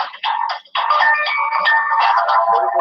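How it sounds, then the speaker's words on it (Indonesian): A mobile phone rings loudly during a curriculum class, a bright electronic ringtone melody repeating in quick phrases after a brief pause near the start, with no talk over it. "Suara HP-nya"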